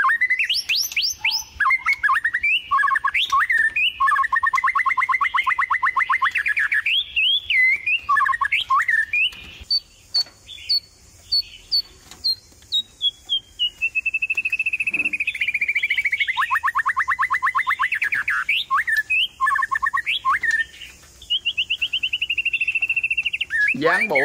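Caged songbirds, a white-rumped shama and a red-whiskered bulbul, sing loudly and close up in long, continuous whistled phrases and rapid trills that fill the whole stretch with only brief pauses.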